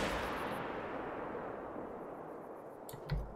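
A rifle shot fired at a red deer in the hunting game theHunter: a loud crack opening with a long decaying rumble, followed near the end by a short, dull thump.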